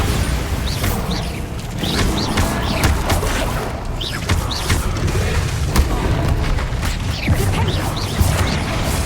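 Bombarda blasting spell explosions in Hogwarts Legacy, a series of booming impacts and crashes recurring every second or two over dense, continuous combat noise, loud and close throughout.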